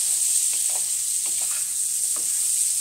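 Green chillies and karonda roast in a pan, a quiet steady sizzle with a few soft stirring scrapes heard against a constant high hiss.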